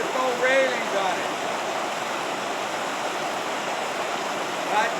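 Steady broadband rush of a low-flowing mountain creek in wilderness, continuous and close, with a faint voice-like whistle near the start and end.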